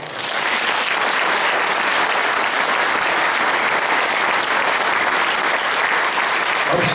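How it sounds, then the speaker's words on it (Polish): A concert hall audience applauds a youth choir at a choral meeting in Radomsko, a loud, dense and continuous wash of clapping that holds steady throughout. "Prosimy o brawa."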